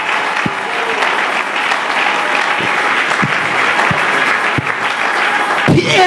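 A church congregation at a Sunday service applauds in a dense, steady wave of clapping that fills the room, with a few low thumps under it and a brief voice near the end.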